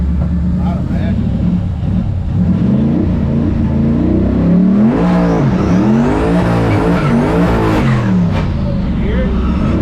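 A twin-turbo Raptor-swapped Crown Vic roars loudly as it accelerates, with rising and falling engine revs and a screeching tire spin building in the middle, while people talk over the noise.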